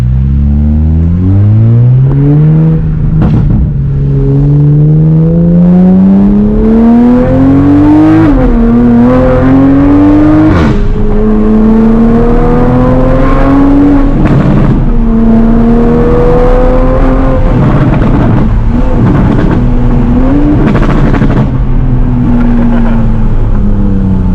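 Loud, raspy Mk5 Toyota Supra engine with no catalytic converter revving up and down repeatedly, pitch rising and falling with each throttle blip, close and unmuffled.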